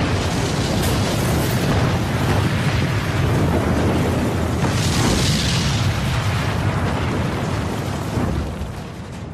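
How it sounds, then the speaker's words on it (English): High explosive and incendiary bombs dropped by Lancaster bombers exploding in a continuous loud roar of blasts and rumbling that fades slightly at the end. "Lancasters dropped both high explosive and incendiary bombs."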